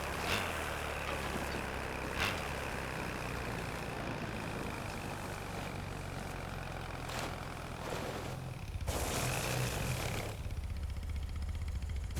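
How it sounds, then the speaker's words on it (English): Loud, steady vehicle engine drone in the Jurassic World Evolution 3 video game, a constant low rumble for the whole stretch, with a few brief clicks and a noisier shift near the end. "That engine is very loud."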